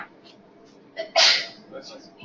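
A single sharp sneeze bursts out midway, preceded by a quick intake of breath, with quiet room sound around it.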